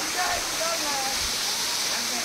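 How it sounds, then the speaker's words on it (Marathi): Adoshi waterfall near Khopoli, a dense continuous roar of falling water heard up close, steady and loud throughout. "हा वरच्या बाजूचा धबधबा आहे"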